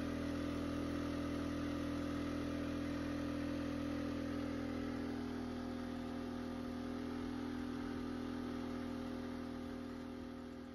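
A portable inverter generator that shuts down under load runs steadily at a fixed pitch, with a strong, even engine hum and harmonics for about ten seconds that fade slightly near the end, and no talk.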